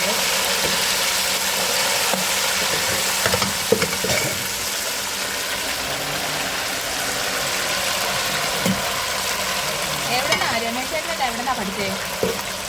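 Fish frying in coconut oil for a chilli roast gives off a steady, close sizzle that runs throughout, with occasional clicks and clatter mixed in.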